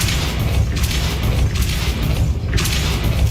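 A spell cast in the video game Hogwarts Legacy bursts in a dense, continuous wash of booming, crashing game effects that stays loud throughout with no pauses.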